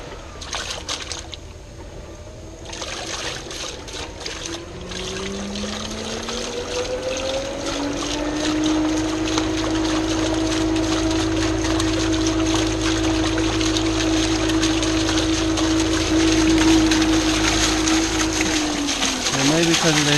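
A pool pump on a Hayward or Pentair DE filter system starts priming, its motor tone rising steadily into a loud, sustained churning whir with trickling water, while a voice talks briefly at the start.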